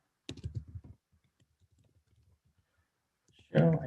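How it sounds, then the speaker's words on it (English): A password is typed on a computer keyboard in a run of soft, quiet keystrokes, set between louder bursts of a nearby voice speaking. "Typing my password wrong."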